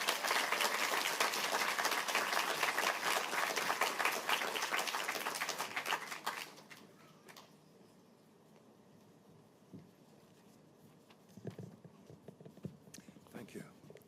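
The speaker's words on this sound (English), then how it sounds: "Give him a big round of applause." An audience at the KPMG Children's Books Ireland Awards ceremony in Dublin applauds loudly and densely for about six seconds, then the clapping dies away into a quiet room with scattered small noises and shuffling.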